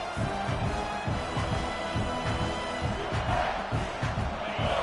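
A stadium crowd in a college football video game, LSU versus South Carolina, cheers in a sustained loud, dense roar throughout, with no clear voices above it.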